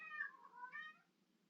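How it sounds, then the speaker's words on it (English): A kitten gives a faint, drawn-out meow in two rising and falling pulses, somewhere in the background of a quiet room, with no talking over it. "Don't mind the kitten sounds in the background."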